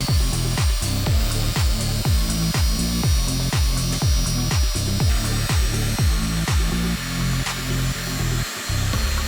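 New BMW brake parts for a 330i E46 to 328i E36 coupe brake swap being cut, with rhythmic repeated sawing strokes at a steady pace, close and loud throughout.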